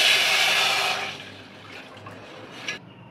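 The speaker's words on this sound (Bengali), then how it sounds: "আর জল নিচ্ছি 1 কাপ" A cup of water poured onto sugar, a loud rushing splash at first that thins to a faint trickle and a few small drips.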